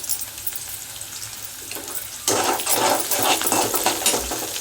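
Crushed garlic drops into hot oil for a tomato thokku and bursts into a loud, steady sizzle after a quieter start, a dense bubbling hiss that holds to the end with no talk.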